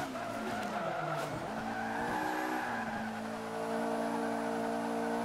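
A Honda S2000 drifting in the Forza 5 racing game, with a continuous loud tire squeal and skid layered over a steady engine drone, without pause for the whole stretch.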